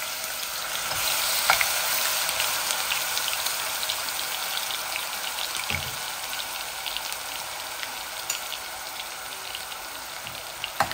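Chicken with grated onion sizzles and fries in a pan, a dense, even crackle close up with a few brief clinks and stirring knocks, and no talking.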